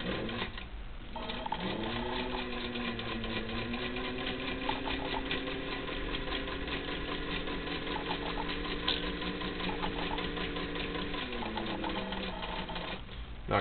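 A 1940 Singer 15-91 sewing machine stitches in a steady, continuous whirring run with a rapid needle clatter, close and even, briefly slowing and pausing near the start and end.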